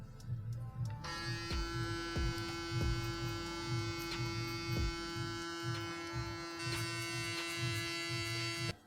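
A Panasonic electric hair clipper runs continuously close by, a steady loud mechanical buzz with a strong hum, humming on alone without any voices for several seconds.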